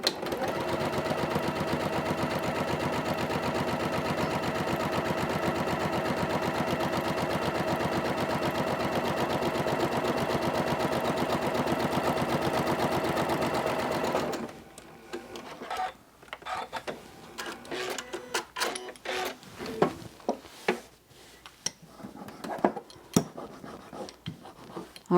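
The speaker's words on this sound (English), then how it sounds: "So I'm just going to keep stitching this along." A domestic sewing machine runs steadily for about fourteen seconds, stitching fabric strips onto a quilt foundation for an Eye of Horus quilt, then stops, leaving quiet handling and rustling of fabric.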